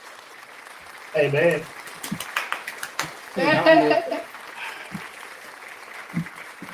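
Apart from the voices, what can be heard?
played round of applause sound effect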